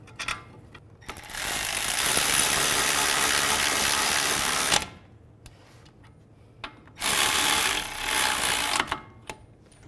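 Ratchet running bolts into a brake caliper bracket on a 2011–2015 Chevy Cruze, two bursts of rapid buzzing clicks several seconds each, close and loud, with quiet pauses between.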